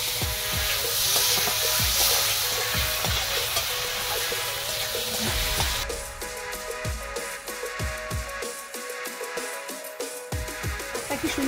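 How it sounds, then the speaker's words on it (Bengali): Tomato chutney with sugar gets stirred in a pan, a soft constant sizzle under rhythmic spoon scrapes and knocks that turn sharper and more frequent partway through, with no voices. "আবারও 2 মিনিট নেড়ে দেবো"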